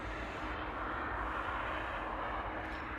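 A jet airliner landing at Manchester Airport, inbound from Grenoble, sounds as a steady, fairly distant broadband engine roar and rush that holds level for the whole stretch, with no voices over it.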